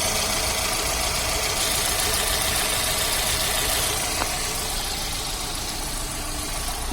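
A Hyundai Santro Xing car engine, after an overhaul, idles steadily with a low, even rumble and faint ticking, running unchanged throughout.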